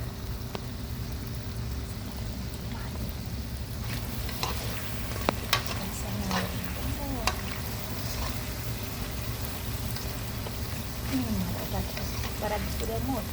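Food frying in a pan gives a steady, moderate sizzle with scattered clicks and light scraping from stirring throughout.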